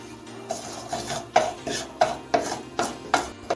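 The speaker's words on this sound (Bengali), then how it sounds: "এখন আমি পাঁচফোড়নটা দিয়ে দিচ্ছি পাঁচফোড়নটা একটু ভেজে নিচ্ছি" Panch phoron spices frying in hot white oil in a non-stick pan, a soft steady sizzle punctuated by regular scraping strokes of a spatula, about seven evenly spaced stirs, close and quiet.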